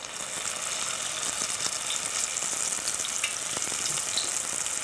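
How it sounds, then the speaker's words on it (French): Samosas deep-frying in hot oil in a home kitchen, a steady, even crackling sizzle that holds from start to finish with no voices over it. "je mets les samoussas dans l'huile chaude"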